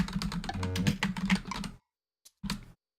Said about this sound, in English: So I'm gonna type that in.